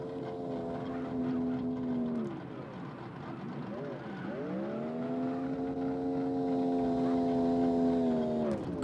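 A drift car at Atron Circuit is held at full throttle with rear wheel spin, its engine droning loudly with dips and swoops in pitch, under commentary.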